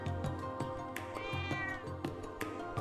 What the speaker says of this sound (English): Oh, it's a cat.